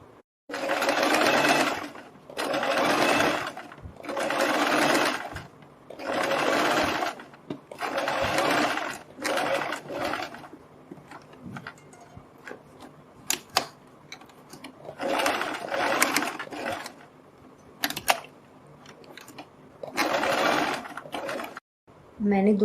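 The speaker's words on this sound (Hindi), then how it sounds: "वो सिलाई हम यहाँ से लगानी शुरू करेंगे, इस तरह से लगाते हुए हम यहाँ तक सिलाई लगाएंगे।" Sewing machine stitching along two fabric strips for a boat-neck blouse, whirring in repeated bursts of a couple of seconds each, with pauses and soft handling clicks between runs.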